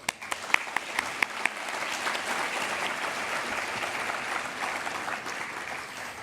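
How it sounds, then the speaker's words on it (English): At an awards ceremony, the audience applauds fellow honorees. A few crisp early claps swell into a steady, even wash of applause that carries on at moderate, fairly distant volume. "please join me in applauding fellow peers one more time"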